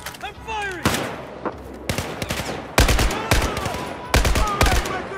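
Rapid bursts of automatic gunfire from the Battlefield 4 video game, several loud volleys in close succession, with shouted voices between them.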